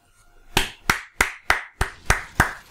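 Seven sharp, evenly spaced hand claps ring out alone, each a crisp close slap with a short decay, sounding like a single person clapping slowly.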